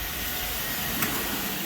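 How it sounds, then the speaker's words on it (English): A vacuum cleaner running steadily during household floor cleaning, a continuous close, loud whooshing drone with no break. "So we'll start with the vacuum cleaner."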